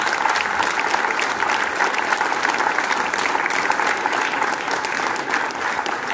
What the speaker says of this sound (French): je pense qu'on peut s'applaudir vraiment bien